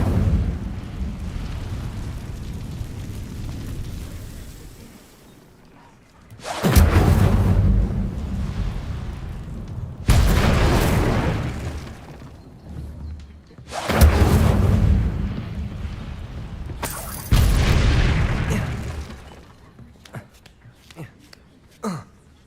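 Incendio fire spells are cast in Hogwarts Legacy, each landing as a heavy whooshing burst of flame followed by a decaying rumble, four loud blasts spaced a few seconds apart.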